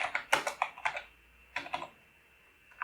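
Keys clacking on a computer keyboard during coding work: a quick run of crisp, close taps, a pause, then a few more strokes and one last faint tap.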